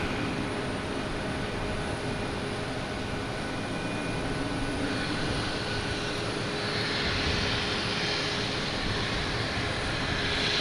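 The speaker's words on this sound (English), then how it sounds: "Next up is a Delta heading to Atlanta, an A321." A Delta Airbus A321 at Boston Logan airport gives a loud, steady jet engine roar that swells slightly in intensity partway through, with no voices.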